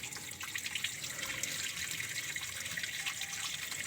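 Coolant water draining steadily out of a Kijang Grand Extra car radiator, a continuous hissing trickle and splash heard close up for several seconds, with no talking.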